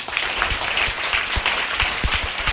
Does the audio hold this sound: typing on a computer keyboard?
no